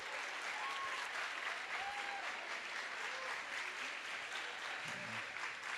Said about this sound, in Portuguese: Palmas para Afonso